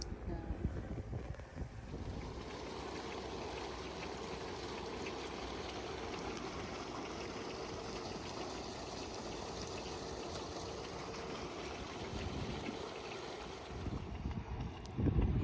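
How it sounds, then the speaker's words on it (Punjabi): Wind gusts steadily across the microphone outdoors in a Punjabi farming village, a continuous broadband rush with heavier buffeting near the start and end. "ਹਵਾ ਵੀ ਚੱਲਦੀ ਹੈ"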